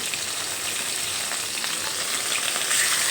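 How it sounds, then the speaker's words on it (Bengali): Pieces of rohu fish fry in hot oil in a pan, producing a steady, close, hissing sizzle with fine crackle throughout and no voices. "দেখো আমি এখানে এক এক করে সবগুলো মাছের পিস ছেড়ে দিয়েছি"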